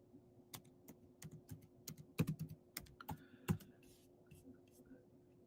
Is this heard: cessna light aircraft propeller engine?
no